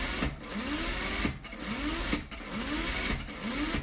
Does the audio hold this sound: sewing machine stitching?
yes